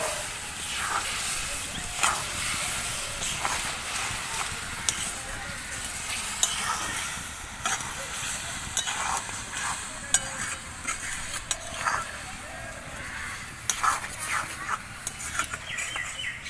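Hog plums cooked with sugarcane jaggery for a sweet-sour pickle are stirred in a pan, a steady hiss and sizzle running throughout with repeated scraping strokes close by.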